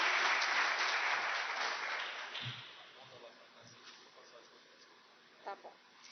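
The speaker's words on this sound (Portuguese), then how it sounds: "uma salva de palmas aí para doutor Clóvis" Audience applause for a guest doctor at a lecture on the judiciary, a burst of clapping that starts full and steadily fades out over a few seconds, leaving quiet room noise and a couple of faint knocks.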